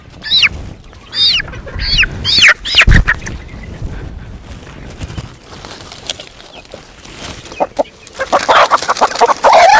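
Native chickens and a black rooster cluck and squawk up close in a series of loud, uneven bursts, with brief quieter gaps and more scattered calls toward the end.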